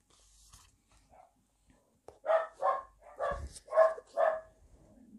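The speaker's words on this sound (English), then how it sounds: "My dogs, as ever, are joining in with us this morning." Dogs bark in a quick run of five sharp, loud barks close by during a quiet morning prayer service, after near silence with a faint sound and followed by a low trailing whine.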